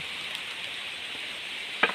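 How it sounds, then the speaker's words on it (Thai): Steady rain hisses evenly and close, with a short sharper tap near the end and no voices. "ฝนเริ่มมาอีกแล้วตาอ้วน"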